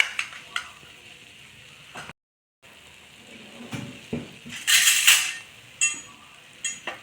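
Potato masala roasting in a pan, with a utensil scraping and stirring against the metal over a low sizzle. A brief silent gap interrupts it, and a brighter burst of hissing follows later.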